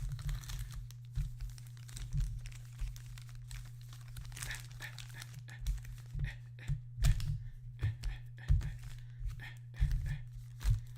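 Trading card packs from a Mandalorian Topps Chrome and Gilded Age hobby box being shuffled by hand, their foil wrappers crinkling in soft, irregular bursts over a steady low hum, with no talk.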